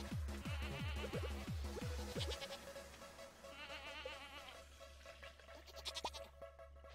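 Goat bleating in the Stardew Valley farming game, a run of short repeated bleats at the start over steady background music, then fainter game sounds and music.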